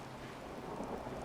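Rain and rolling thunder in the Fallout 4 video game, a dense, steady wash of rainfall with low rumbling underneath, constant and fairly loud throughout with no talking.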